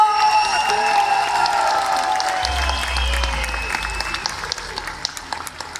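At a night festival with a live orchestra, a crowd applauds and cheers for a performer, clapping and shouting under held musical tones, with a low rumble partway through and the claps thinning into scattered individual ones.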